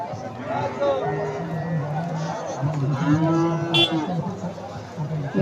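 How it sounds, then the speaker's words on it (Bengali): Friesian cross calves and cows at a busy cattle market, several drawn-out moos rising one after another over a steady crowd murmur and voices nearby. "এখানে বেশ কয়েকটা বাছুর গরু আছে"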